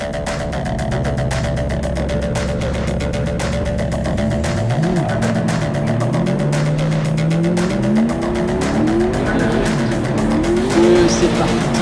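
Drift cars battle at Bordeaux Mérignac, engines revving hard and tires squealing in long wavering screeches that rise and fall, loud and close, with a French commentator talking over it throughout.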